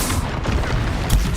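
A Confringo explosive spell blasts in Hogwarts Legacy, a dense booming burst over continuous loud game noise, with a sharper impact near the end.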